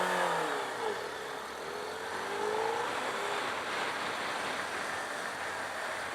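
A 2017 Suzuki Hayabusa motorcycle engine accelerates hard and close, its rising roar shifting up through gears as the pitch sweeps upward, with strong wind rush over the steady loud drone.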